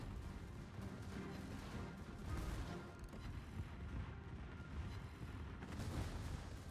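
Torpedoes striking a warship in a naval battle video game: a dense, continuous rumble of booming impacts and crashing noise, fairly steady throughout with a few swells in intensity, heard without speech.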